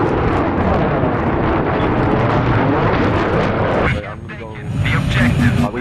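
Jet aircraft roaring overhead in a Battlefield 3 Conquest match on the Caspian Border map, a loud sustained engine wash layered with battle noise that drops briefly near the end before surging again, while players talk over it.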